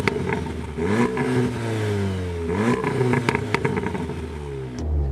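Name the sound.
Volkswagen Golf R engine revving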